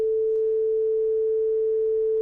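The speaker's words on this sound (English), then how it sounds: "So when we see the sine wave, there's only that one fundamental tone really that's present." A synthesizer holds a pure sine wave tone, one clean steady pitch with no harmonics, sustained evenly at moderate loudness for about two seconds with nothing else heard.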